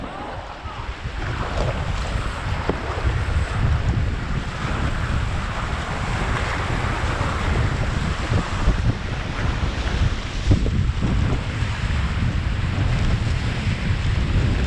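Strong wind roars steadily across the microphone aboard a Hobie 16 catamaran under sail, with water rushing and slapping along the hulls. The noise is loud and continuous from start to finish, with no clear talk above it.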